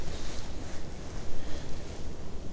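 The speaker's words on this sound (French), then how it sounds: "Il y a du vent surtout." Gusty wind blows outdoors near a parked van, a steady broadband rush buffeting the microphone in uneven swells, with no voices.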